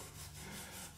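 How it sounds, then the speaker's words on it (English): Wire brush scrubbing rust and grime off the ignition coil of a Briggs & Stratton small engine, a steady close-up scratchy rubbing that continues evenly without pauses. "I'm probably just gonna take a wire brush to this"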